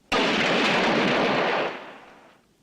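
A film's rifle volley fired on command cracks out as one loud, sudden blast whose broad roar sustains for about a second and a half before tailing off.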